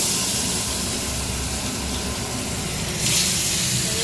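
Fish pieces frying in a pan in a home kitchen, a steady loud hiss and sizzle of hot oil that flares brighter near the end.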